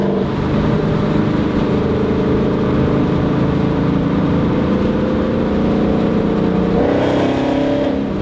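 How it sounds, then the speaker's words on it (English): A Ford Mustang with a loud aftermarket exhaust drones and revs continuously up close, a steady heavy rumble with a rising rev near the end and no talking. "I didn't know my exhaust was going to be this loud"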